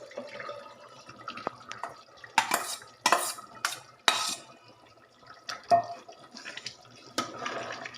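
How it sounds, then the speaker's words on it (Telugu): Already boiled mutton tipped into gongura in a pan and stirred, with several loud clattering scrapes of a metal spoon against the pan in bursts, and wet sloshing between them. "నెక్స్ట్ ఇందులోకి మనం ఆల్రెడీ ఉడకబెట్టుకున్న మటన్ ఉంది కదా, గోంగూర. ఈ మటన్ ఇందులో యాడ్ చేసేయాలి."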